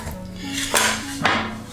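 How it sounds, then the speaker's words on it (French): Metal camping mess tins clank and clink together up close, two sharp knocks ringing out with a bright metallic tone. "Et les gamelles, voilà, là-dedans vous avez tout"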